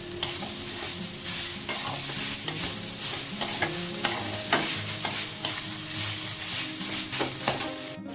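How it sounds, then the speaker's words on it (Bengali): A ground paste of mustard, poppy seed and green chili is stirred in a sizzling pan, with repeated scraping strokes and soft clinks over a continuous close frying hiss, no voices. "হালকা করে নেড়ে দিচ্ছি"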